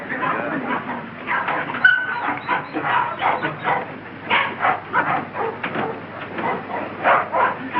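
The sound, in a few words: dog barking and whimpering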